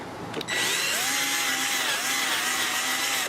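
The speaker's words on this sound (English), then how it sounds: "And then we're gonna polish it with this polishing pad." A power polisher spins a polishing pad across a car headlight with fine cut polisher, starting after a brief knock and then holding a steady, close whirring drone with slight pitch swells for the rest of the moment.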